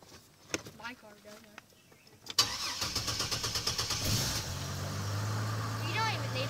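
A 2002 Chevrolet TrailBlazer LTZ cranks with a rapid whirring starter for about two seconds, then catches and settles into a steady idle, with brief voices and clicks before the start.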